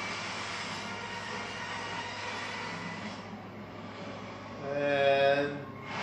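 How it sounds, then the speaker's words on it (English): In Resident Evil 6, a train rolls on after a helicopter crashes into it: a steady, loud rail rumble with grinding noise that swells briefly near the end, with no voices. "Helicopter hit a train. And the train somehow didn't explode."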